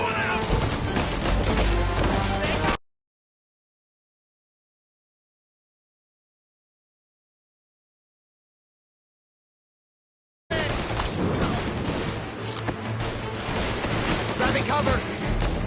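Gunfire crackles in the Mafia video game, a dense stretch of shots at the start, then a long silence, then heavy firing again, mixed with shouting voices and game sounds.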